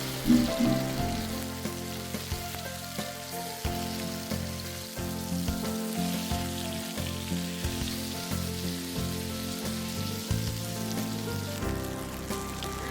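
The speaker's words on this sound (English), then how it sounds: "Fry fish until they turn slightly golden on both sides." Fish shallow-frying in oil in a pan for fish molly, a steady, close crackling sizzle that runs the whole time with faint low clanks and tonal hum underneath, no voices.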